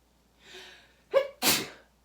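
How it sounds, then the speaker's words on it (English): A person sneezes once in the open, with a soft breathy build-up and a sharp gasp before a loud burst, then quiet. "I have a sneeze coming."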